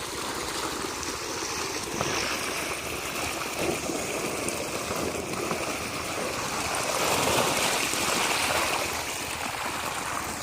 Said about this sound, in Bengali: কত নিচু থেকে মেশিনটা জল তুলছে, তবুও দেখাচ্ছি আপনাদের।